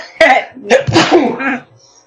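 A single sneeze bursts out sharply, followed by a short trailing breathy sound, close and loud, with talk nearby.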